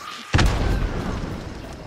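Frag grenade detonating in the video game Hunt: Showdown, a single loud boom after a short quiet lead-in, with a long rumbling decay trailing off.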